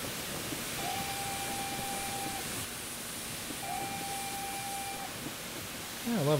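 A steam locomotive whistle on the West Somerset Railway in Train Simulator 2014 sounds two steady, moderately loud blasts over a constant hiss of running engine noise on a climbing stretch of line.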